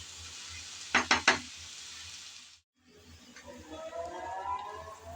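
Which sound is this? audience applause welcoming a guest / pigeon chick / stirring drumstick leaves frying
stirring drumstick leaves frying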